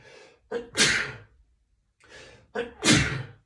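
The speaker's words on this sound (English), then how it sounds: "Sneezing like a trooper." Two sneezes from a person with hay fever, each with a short sharp inhale before a loud explosive burst, separated by a brief pause.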